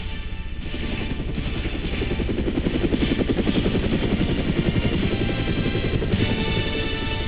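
Military helicopter such as a UH-1 Huey or Cobra in flight: a steady, loud rotor chop with rapid blade thumps and engine drone, continuous throughout without speech.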